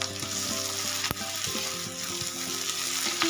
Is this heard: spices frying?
yes